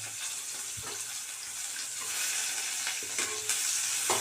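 Coarsely cut onions sizzle with panch phoron spices in hot oil for an egg dish, a dense, close, continuous hiss with a few light knocks of stirring and no voices.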